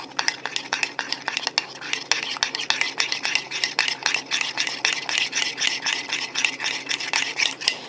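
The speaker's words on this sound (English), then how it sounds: "So I'm going to mix it all together." Melted peanut butter popcorn topping stirred in a cup, a rapid, steady run of close scraping and clinking strokes from a utensil against the cup's sides, with no talking.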